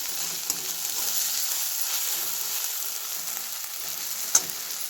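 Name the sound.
roasting chutney spice mix in a pan for bitter gourd curry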